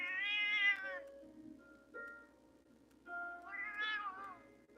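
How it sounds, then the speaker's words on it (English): A female cat meows loudly twice, long drawn-out cries separated by a pause with faint background hum. "Can you guys hear my cat because she's being loud?"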